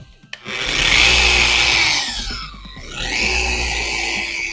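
A car polisher runs close and loud, correcting the clear coat to remove fine swirls before a ceramic coating. Its whine falls in pitch mid-pass, then rises again as it keeps spinning.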